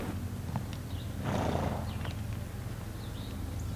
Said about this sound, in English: My husband and I, we keep our horses here.